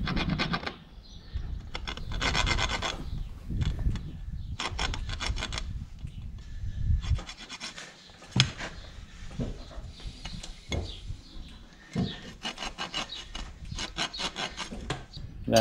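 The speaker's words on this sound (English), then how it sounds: "Then I take my rasp and just clean behind the ends of the nails so that they make a better clinch." Farrier's rasp filing the nail ends on a horse's hoof beside a shoe, rhythmic rough scraping strokes in bursts, close up with brief pauses.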